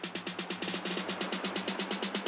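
An electronic buildup sample pulses rapidly with rhythmic, gated bursts of noisy synth, steady and loud throughout.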